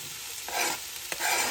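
Peppers stirred into sizzling taco meat in a pan, a constant hiss of frying with two brief scraping swishes as the mixture is turned, close and steady.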